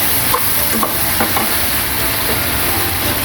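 Onion and spice masala stir-fried for spicy egg bhuna, a steady broadband sizzle with a few faint scraping stirs of the spoon, close and continuous.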